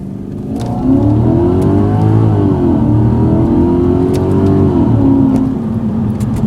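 Inside a B6 Audi S4 4.2 V8 with custom downpipe and X-pipe exhaust, windows up, a steady muffled engine drone that swells and eases under acceleration, with faint clicks above.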